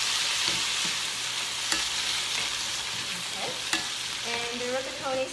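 Tomato and fresh garden basil fry in a pan with a continuous sizzle, stirred by a spatula that gives a few sharp scrapes and clicks, and some faint bubbling toward the end.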